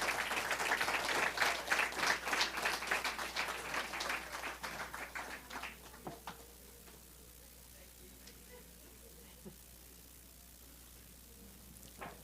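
Applause from an audience at a ceremony in a ballroom, loud dense clapping for about six seconds that thins out and fades to near silence.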